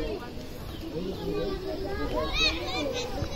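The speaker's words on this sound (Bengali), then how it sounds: "একদম পিচ্ছি ছোট ভাইরা এই মাঠে ফুটবল খেলতেছে" Small children play football in a rain-soaked field, their high shouts and chatter overlapping at a moderate distance, with birds calling faintly in the background.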